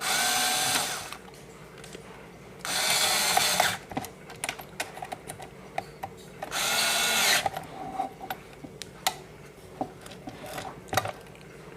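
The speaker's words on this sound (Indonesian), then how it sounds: "Mari kita kencangkan baut yang ada pada bagian" A power screwdriver tightens bolts on the back of a SUOER all-in-one unit, giving three separate, close-up whirring bursts of about a second each, with scattered clicks and taps of handling in between.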